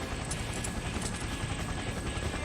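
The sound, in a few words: helicopter descending in video game Persona 4 Arena Ultimax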